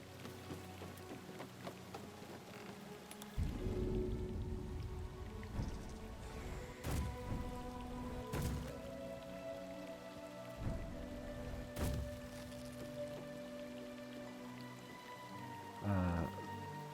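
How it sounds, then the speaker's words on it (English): Steady rushing water from a waterfall in Baldur's Gate 3, a constant full wash of noise with a few heavier thuds and splashes breaking through. "Rest of party, please come jump through this waterfall."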